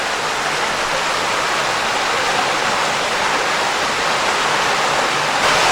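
A small waterfall at Trout Run Nature Preserve gives off a loud, steady rush of falling water, a dense broadband hiss that stays even the whole time with no voices.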